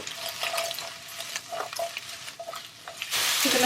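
Mushrooms and garlic frying in olive oil in a hot pan give a steady crackling sizzle with a few scraping stirs, ending in a sudden louder hiss as more goes in.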